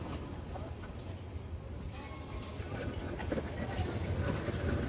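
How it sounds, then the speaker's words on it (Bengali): A train pulls into a station on the Sylhet line, its broad rumble and rail noise building steadily over the whole stretch, with faint voices in the background. "যাব সেই ট্রেনটি অলরেডি চলে আসছে"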